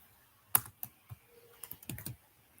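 Python code typed on a computer keyboard: a handful of crisp, close keystrokes, one sharp strike followed by a few scattered clicks and a quick cluster near the end, in an otherwise quiet room.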